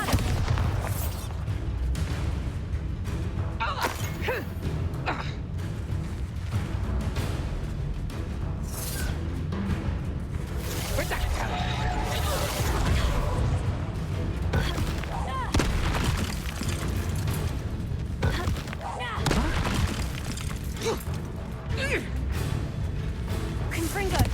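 Bombarda spell explosions burst during combat in the video game Hogwarts Legacy, with repeated booming blasts and thuds layered over continuous battle noise while a voice talks throughout.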